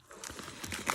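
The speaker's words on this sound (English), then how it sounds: "this plastic is super shrink wrapped on there" Plastic shrink wrap is peeled off a notebook, a close, continuous crackling and crinkling that grows busier and louder toward the end, with no talk over it.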